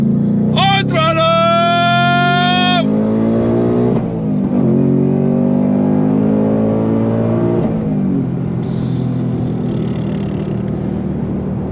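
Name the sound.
2025 Ford Mustang Dark Horse engine accelerating hard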